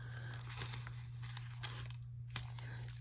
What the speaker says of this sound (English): I'll just cut this basically 1/8 of an inch